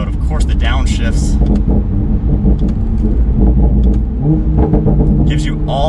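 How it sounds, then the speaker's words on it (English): A Toyota A90 Supra with a tuned straight-pipe exhaust in sport mode rumbles loudly while someone talks over it, with sharp crackles and pops on downshifts near the start and again toward the end. "now that we're in sport mode, of course the downshifts"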